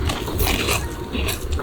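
Crunchy fried fish and chips are bitten and chewed close up outdoors, giving a dense, continuous crackling crunch with no talk over it.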